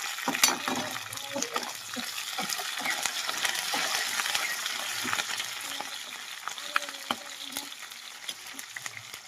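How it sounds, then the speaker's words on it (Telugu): Sliced onions and curry leaves fry in a pan, a continuous moderate sizzle with frequent scraping stir strokes throughout and no speech. "ఉల్లిపాయలు అయితే బాగా ఫ్రై అవుతున్నాయి కదా ఏంటంటేనే కరివేపాకు కూడా వేసేస్తుంది"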